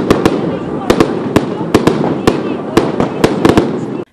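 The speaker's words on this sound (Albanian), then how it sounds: "ky festival fishekzjarësh ka qenë i vetmi organizuar në kryeqytet" Fireworks burst at a New Year celebration in Albania's capital, about a dozen sharp cracks at uneven intervals over a steady crowd roar and murmur.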